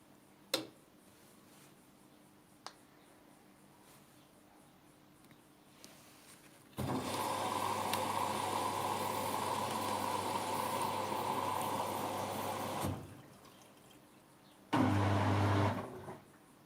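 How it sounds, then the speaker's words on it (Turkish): A washing machine starts a cleaning cycle with a few clicks and beeps, then runs with a steady motor hum for several seconds, goes quiet and gives a short louder whir near the end. "makinemizi çalıştırmaya başlayabilirim. Ve çalıştırıyorum."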